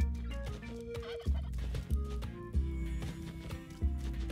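A live turkey gobbles in Spelunky 2, repeated rattling gobbles in a steady rhythm over busy game music and thumping effects.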